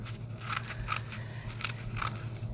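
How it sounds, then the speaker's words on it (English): Paper being snipped with scissors while cutting strips all the way around a cardboard tube for a troll-hair craft, a series of crisp close cuts at a steady rhythm over a low background hum. "So we'll just keep cutting, go all the way around the tube."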